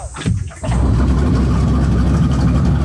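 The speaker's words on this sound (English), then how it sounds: "the noise of the air coming through the turbos is so strange" A turbocharged car engine catches and settles into a loud, steady rumbling run with a rough low drone and airy rush over it, close by, after a brief uneven start.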